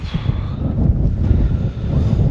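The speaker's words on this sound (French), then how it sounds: "il y a beaucoup de vent." Steady, blustery cold mountain wind in Morocco's High Atlas buffeting the microphone with a low rumble throughout, strong and continuous with slight surges.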